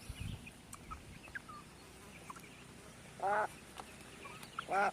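Meat chickens clucking in short bursts, two distinct calls standing out against a quiet outdoor background with scattered faint bird noises.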